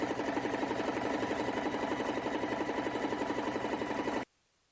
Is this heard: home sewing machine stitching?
yes